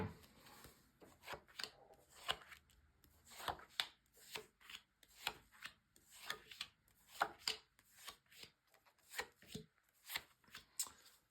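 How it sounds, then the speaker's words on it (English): Tarot cards shuffled by hand in a quiet room, a faint, close series of rhythmic riffling and sliding bursts repeating at short intervals with no talk. "first of all, a good shuffle"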